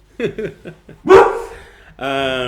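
A dog lets out several short yips and barks close by, followed by a longer whining bark and a sustained whimper, with no other sound around them.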